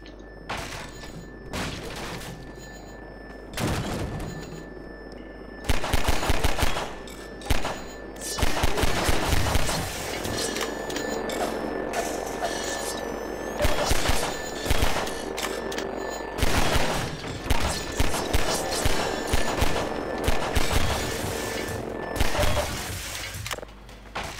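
Rapid bursts of gunfire and heavy impacts from the Half-Life 2 video game, with machine-gun volleys, booms and shattering that run almost continuously over a steady background hum.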